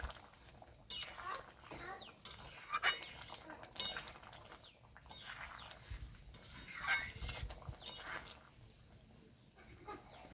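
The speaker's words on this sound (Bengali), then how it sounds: "ভালো করে মিক্স করে নেব।" A spoon stirs Bengali red lentil dal cooked with young jackfruit in a pot, giving faint, scattered metallic clinks and scrapes at an irregular pace against a soft background hiss.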